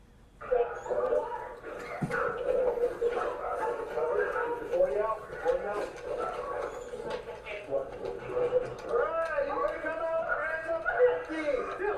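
A police dog barks and yips excitedly close up in a continuous run of bow-wows, whines and howl-like cries, with voices talking at the same time.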